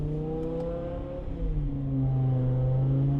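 A BMW M5 with a V10 engine driving, its engine drone steady and close with pitch falling and then rising again as the car eases off and picks up speed.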